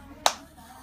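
A single sharp hand clap sets off the sound sensor on a small battery-powered robot car with one motor per wheel; one crisp, close snap in an otherwise quiet room.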